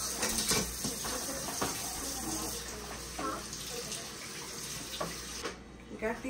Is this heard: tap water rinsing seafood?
yes